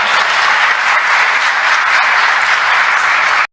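Audience applause, loud and dense, holding steady as a continuous roar of many hands before it cuts off abruptly.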